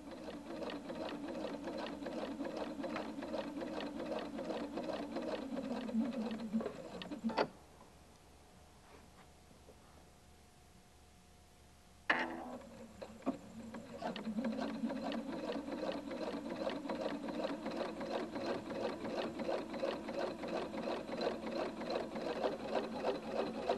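A Husqvarna Viking Designer II sewing machine top stitches along a collar edge with a D foot, giving a steady, rapid ticking hum that stops for a few seconds, then resumes and runs on evenly.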